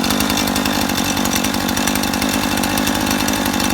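Small engine running steadily after a cold start, a loud, continuous, close buzzing drone like a chainsaw with a rapid rhythmic chop, holding steady throughout with no voices.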